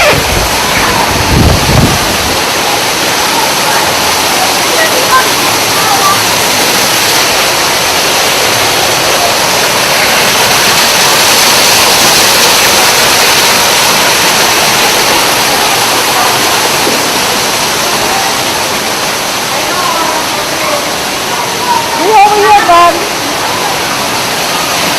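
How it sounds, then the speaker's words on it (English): A waterfall in an indoor rainforest room pours down hard, making a loud, steady rushing roar that fills the whole stretch without pause. "Would you like to take a shower under the waterfall?"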